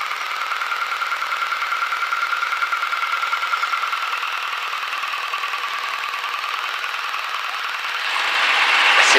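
A light aircraft engine drones steadily during a takeoff roll, a loud continuous buzz with a throbbing pulse that swells louder near the end as power comes up.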